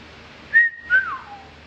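A person whistles two short, clear notes close by, the second gliding downward and trailing off, with near silence around them.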